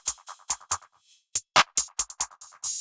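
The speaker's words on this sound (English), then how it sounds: "It gave it some sort of like left to right echoey effect." Drum pattern run through a Rift chop-and-swell filter with a left-to-right echo effect: sharp, punchy hits in a choppy rhythm, with short gaps and a sustained swelling burst at the close.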